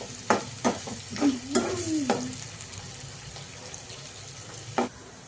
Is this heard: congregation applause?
no